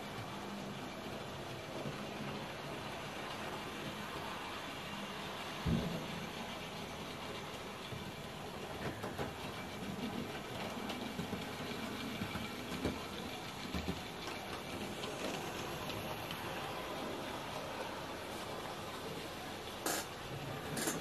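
A Hornby Peckett W4 model steam locomotive runs steadily with a continuous rumbling chug and faint rail clicks, with a few sharp knocks along the way.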